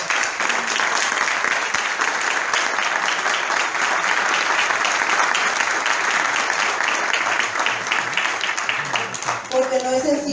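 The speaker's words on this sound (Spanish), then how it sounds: "doble aplauso para el juez Ever y para todo el equipo que se presentaron" An audience at a specialized family violence court event gives loud, sustained applause with steady clapping. A voice begins speaking over it just as the clapping fades at the end.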